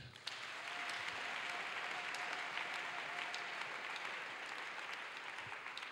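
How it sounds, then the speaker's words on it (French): A church congregation applauds, a dense, sustained clapping from many hands heard at moderate distance, steady for several seconds with a faint voice underneath. "Acclamons Jésus"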